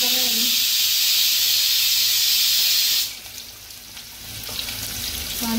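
Onion dropped into hot oil for an egg biryani sizzles loudly and steadily, then the hiss drops sharply partway through and settles into a softer, quieter frying crackle.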